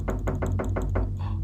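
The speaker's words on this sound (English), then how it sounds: "He heard my knocking." Five firm, evenly spaced knocks on a door sound up close in the Beaux-Arts video game, each a dull, resonant thud, followed by a brief softer rustle.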